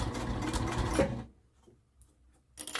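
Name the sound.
sewing machine stitching a hot pod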